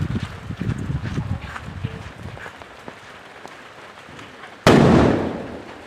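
A large Diwali firecracker bursts with one sudden loud bang after scattered rustling and crackle, its blast decaying over the final second.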